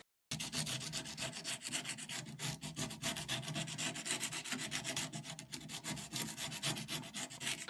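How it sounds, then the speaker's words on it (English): Rattan furniture is hand sanded with a quarter sheet of sandpaper, a continuous close rhythmic scratching rub with quick back-and-forth strokes, no voices. "And there I've got a quarter sheet. It's an easy way to save money on sandpaper."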